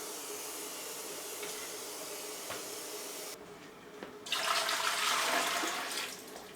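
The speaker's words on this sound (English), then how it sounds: "I'm going to add about 2 inches or so of water to the canner" Water rushes from a tap into a pressure canner, a faint hiss giving way to a louder, steady pouring for a couple of seconds before tapering off.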